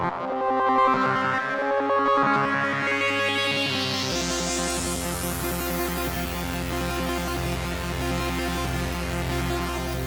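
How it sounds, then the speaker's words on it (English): A Moog-style synth plugin preset plays a dense, bright patch, with a rising filter sweep over shifting low bass notes and busy harmonic layers, loud and continuous throughout. "this preset right here sounds amazing"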